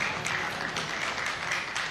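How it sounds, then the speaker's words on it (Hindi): An audience at a school prize ceremony for a religious recitation and speech contest gives a brief, dense burst of clapping, loud and continuous throughout. "लिम्रा के लिए जोरदार तालियां।"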